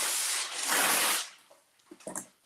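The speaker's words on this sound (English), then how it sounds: "And I think I'll just spray this over the sink." A spray bottle misting over a kitchen sink during food prep, one long hissing spray burst, close and clear, followed by a few soft taps and small clatters.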